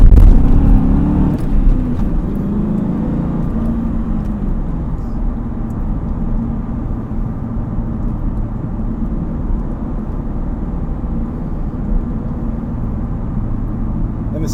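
A Ford Mustang drives along, its engine swelling louder in the first seconds as it accelerates, then settling into a steady road rumble with tyre noise for the rest.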